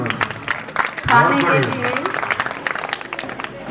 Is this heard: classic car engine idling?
no